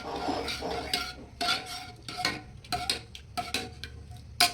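Chutney being mixed by hand in a bowl in a home kitchen, continuous scraping and clinking of a utensil against the dish in uneven strokes, close and moderately loud, with no talking.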